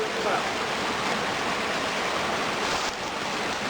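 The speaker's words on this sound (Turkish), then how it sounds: "Şelalemiz bu." Çukurçakal waterfall roars in a steady, dense wash of falling water, loud and close, with no pauses across the short stretch.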